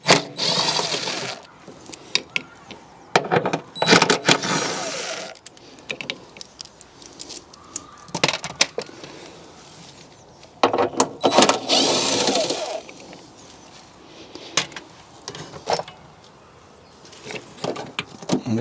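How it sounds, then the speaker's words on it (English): A ratchet works three 10mm bolts loose on a BMW near the wiper arm area. Several close bursts of rapid clicking are separated by pauses and quieter handling noise. "let's remove those 3 10mm bolts"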